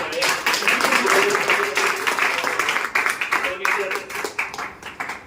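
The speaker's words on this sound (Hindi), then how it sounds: "प्रयागराज की जोरदार तालियां" Applause from an audience at a training program in Prayagraj, with many hands clapping steadily, then thinning into scattered claps toward the end.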